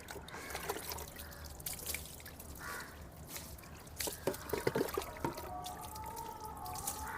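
Water is poured over a person's head while bathing, trickling and splashing in uneven bursts close by, dribbling and pouring intermittently over a quiet background.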